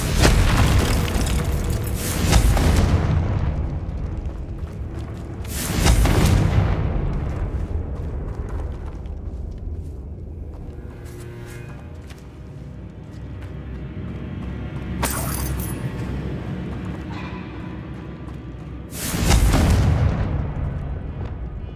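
Confringo fire-blast spell explosions in the Hogwarts Legacy video game, four or five heavy booming blasts spaced a few seconds apart over a continuous rumbling battle backdrop, loud and close.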